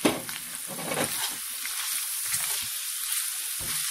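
Shredded carrot for Filipino lumpia filling sizzles in a hot pan, a steady close hiss of frying with a few soft stirring scrapes and low knocks, no talking.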